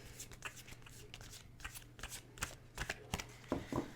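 Tarot cards being shuffled by hand, a quiet, close run of soft riffling flicks and papery slaps in an uneven rhythm, with no talk.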